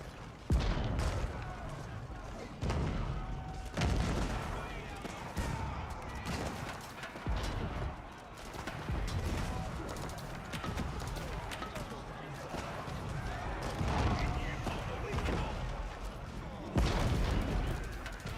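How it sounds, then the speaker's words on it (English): Bombard cannons fire during a battle in a strategy video game, a dense run of booming, crackling blasts that repeat close together, with a voice commentating over the fighting. "The bombards are killing the Royal Cannon, and then the Mangonel will be the next victim."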